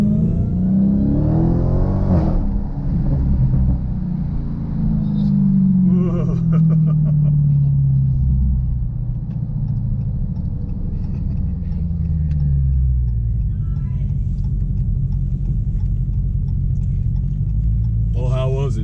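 A Dodge Challenger SRT Hellcat accelerating hard from a stop, its engine a loud, continuous deep roar that rises in pitch through the run, with voices talking faintly over it.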